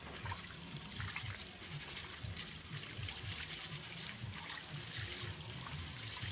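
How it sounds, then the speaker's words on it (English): Water pours steadily into a pot of rice at an outdoor cooking spot, a continuous close trickling and splashing with no talk. "So I'm going to fill up on the pot of rice."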